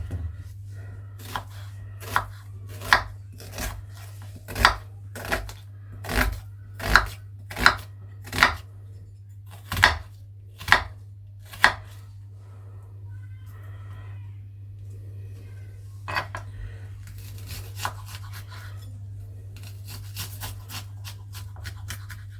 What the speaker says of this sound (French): nous allons couper l'oignon